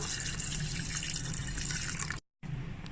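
Hot water, about one and a half cups, poured into a dry-simmered Punjabi-style mutton curry, giving a steady close splashing rush that stops abruptly near the end, then briefly resumes.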